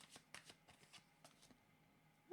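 Tarot cards shuffled in quick, papery riffles and flicks, a run of soft bursts close by, ending in a brief louder sound.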